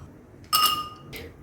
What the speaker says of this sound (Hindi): आइस क्यूब डाल देंगे।